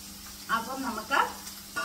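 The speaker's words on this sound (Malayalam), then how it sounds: "കടുക് വറക്കാൻ ഇട്ടു." Mustard seeds fry in hot oil in a pan, giving close crackling sizzles with brief popping bursts over a steady hiss.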